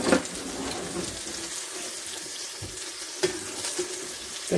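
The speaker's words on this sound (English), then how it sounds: "Alright, so I'm cooking up this steak." Steak frying in a pan gives a soft, steady sizzle close by, with a few brief stirring or clattering sounds and no talk.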